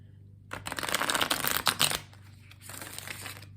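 A Spirit Animal Oracle card deck is shuffled close up, a dense riffling flutter that rises and falls in two bursts before a softer rustle.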